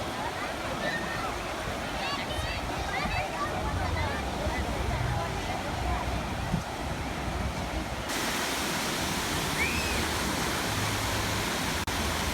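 A packed water park with massive water slides gives off a steady, loud wash of splashing and rushing water that runs throughout, with a constant crowd murmur and voices under it.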